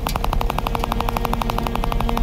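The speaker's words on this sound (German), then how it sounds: "Trotzdem drauf schießen." Rapid automatic gunfire in the video game Mafia: Definitive Edition, a dense, even stream of loud shots with no pauses and no talking.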